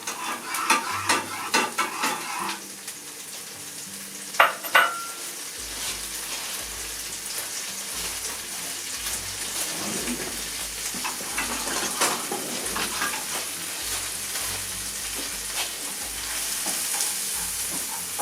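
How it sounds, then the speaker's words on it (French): Onions frying in a pan for a pine-nut and sorrel dish, a steady sizzle with stirring and scraping clatter throughout, clearest near the start, under occasional brief talk. "Je vais mettre mes oignons à revenir."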